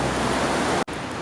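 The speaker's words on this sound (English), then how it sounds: "I am in downtown Pittsburgh, and it's pouring" Heavy rain pours in downtown Pittsburgh near PNC Park, making a dense, even hiss that fills the whole moment and cuts out abruptly for an instant near the end.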